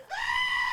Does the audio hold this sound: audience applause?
no